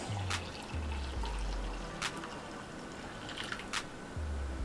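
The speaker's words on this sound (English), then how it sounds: "we're going to pour 2 cups of this into our glass." Steeped tea trickles from a vessel into a glass in short pours separated by pauses, with a few light clinks and handling bumps close by.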